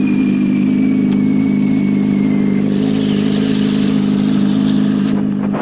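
A 2002 Honda Hornet 600 motorcycle idles steadily just after a cold start with the choke on, its close, loud engine drone constant throughout with a faint rising whine, and no talking.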